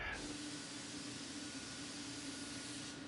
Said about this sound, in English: I'm going to then sort of lean the gun towards myself and then spray the inside edge